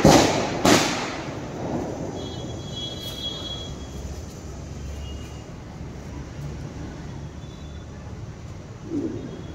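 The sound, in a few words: sutli bomb firecracker exploding during Diwali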